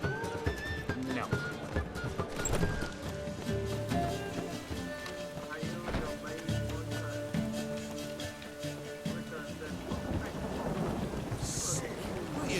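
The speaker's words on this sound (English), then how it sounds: "Get out of this darn rain." Steady rain falls in a city in The Witcher 3: Wild Hunt, with rumbles of thunder and clopping horse hooves. A voice talks over the constant hiss of the downpour.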